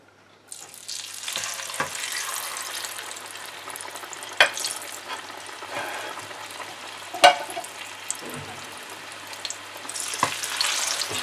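Sweet potato fries drop into oil heated to about 160 degrees and sizzle steadily and close for eleven seconds, with occasional sharp pops and crackles cutting through the hiss.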